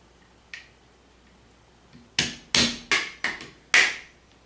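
Close metallic hammer taps drive a pin out of a Classic Army M4 airsoft rifle during disassembly: one light tap, a pause, then five sharp, fast-decaying knocks in quick succession.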